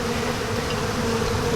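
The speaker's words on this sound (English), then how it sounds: "We have lots of bees in the top of the third deep." Honey bees inside a hive box hum in a dense, steady buzz, close and continuous, with no voices.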